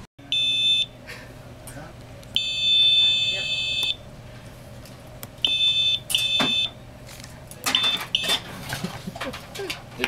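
An electronic device gives repeated short bright beeps in bursts of varying length, loud and close, over a low steady hum, with people talking intermittently.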